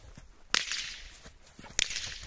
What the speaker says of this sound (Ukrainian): Батіг стріляє.